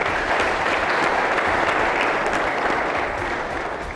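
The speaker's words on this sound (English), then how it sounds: "Let's give them a round of applause, ladies and gentlemen." A climate action townhall audience breaks into loud, sustained applause, a thick continuous roar of many hands that stays level and tapers slightly toward the end.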